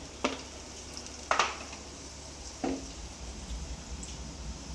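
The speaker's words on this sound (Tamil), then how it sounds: "பட்ரு நல்லா மெல்ட் ஆனோன்னு பூண்டு" Butter sizzling and crackling in a hot pan while making a special kari dosa, with soft, steady frying hiss and a few sharper bursts as something is stirred or dropped in, close and alone with no talk.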